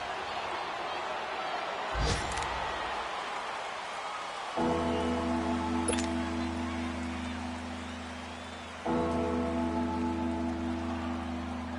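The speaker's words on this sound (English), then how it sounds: "the forecast called for rain throughout the entire game, and we got rain throughout the entire game" Steady rain falls throughout a rainy football video game, a constant wash of hiss with a crowd roar and low stadium hum swelling in and out beneath it and a couple of sharp thuds.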